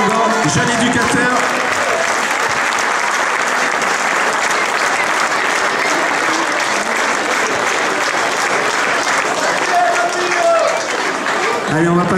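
An audience at the award ceremony of a youth football tournament, the Clément Pinault tournament, claps loudly and steadily for a young U13 coach from Racing Club de Grasse, sustained applause with voices mixed in underneath.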